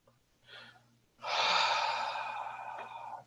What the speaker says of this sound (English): Take a deep breath and breathe it all in.